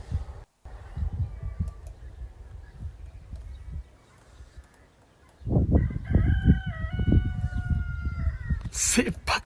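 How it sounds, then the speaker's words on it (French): Chickens and a rooster on a rooftop in Tunisia, a loud rooster crow rising clearly over clucking hens and background voices, close and prominent in the second half. "ce bruit des poules comme ça"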